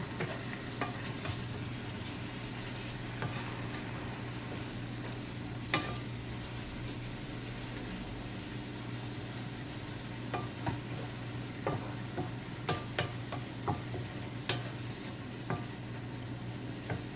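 Cabbage stir-fries in a pan, a constant sizzle broken by irregular sharp scrapes and clinks of stirring throughout.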